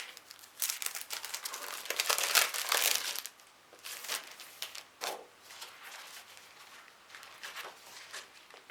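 Sheets of craft paper crinkle and rustle while being handled nearby, in soft irregular bursts that swell briefly and then settle into quieter scattered crackles.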